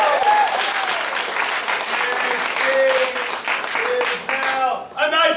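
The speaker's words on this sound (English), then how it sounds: "Give her a big round of applause." Applause from an audience at a martial arts belt ceremony in a family martial arts center in Mount Dora, Florida: steady, dense clapping from a crowd with scattered cheers and voices mixed in, fading near the end.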